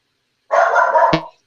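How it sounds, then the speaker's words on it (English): A dog barks once in a single excited, drawn-out bark, fairly close and loud, with nothing else around it. "someone's dog's getting excited"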